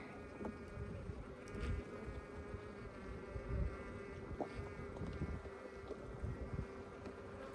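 Africanized honey bees hum in a dense, steady drone around an open hive outdoors, with light wind rumble and a few louder passes of individual bees near the microphone.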